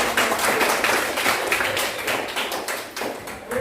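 Classroom students clap their hands together in a steady, dense patter of many overlapping claps, fairly close and even in loudness throughout, with no talking over it.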